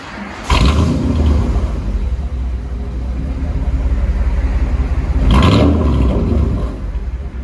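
A 1996 Chevy Silverado 1500 5.7L V8 with straight-pipe exhaust idles and revs twice, close by, the loud, deep, throaty roar swelling with each throttle blip.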